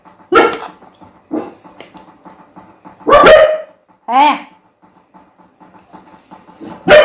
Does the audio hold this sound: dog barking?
yes